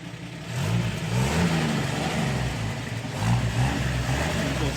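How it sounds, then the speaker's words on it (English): A 1955 Chevy 210's engine revs through a single exhaust, loud and close, with a low rumbling idle that swells into two throttle blips before settling back. "Beautiful single exhaust."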